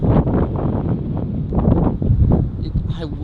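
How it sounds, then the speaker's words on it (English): Strong gusty wind buffets a microphone on an open golf course, a loud rumbling roar that swells and eases in waves, with a voice talking faintly under it. "it is going to be a little windy"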